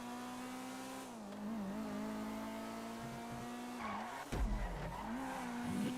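Race car in Grand Theft Auto driving hard through a race, engine droning and revving with rising and falling pitch, tires squealing through turns and a sudden jolt near the end, no voices.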